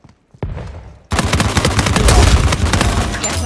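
Gunfire in a video game: a single sharp shot, then a dense, loud fusillade of rapid shots that keeps rolling until the end.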